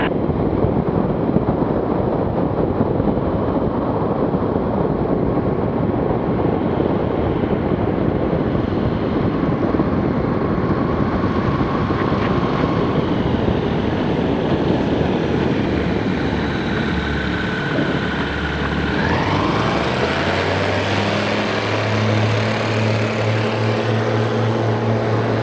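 A STOL 701 light aircraft's propeller engine drones loud and steady in flight, heavy wind rush across the cabin, with the engine pitch shifting and a low throb emerging toward the end as power changes.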